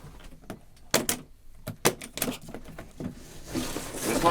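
An aluminum suitcase being opened: a series of sharp metallic clicks and latch snaps at irregular intervals, followed by a louder rustling shuffle as the lid is lifted, close to the microphone.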